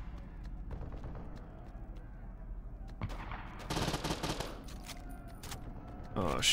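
Gunfire and explosions in the Saints Row 2 video game, including a rocket launcher, with bursts of shots and a loud blast over busy game noise, a voice talking briefly.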